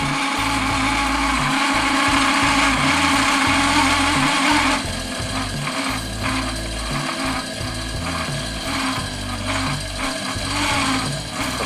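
A small electric motor spins at high speed under a speed-control dimmer, giving a loud, steady mechanical whir with a rattling, gear-like texture that shifts slightly partway through, alone with no talk.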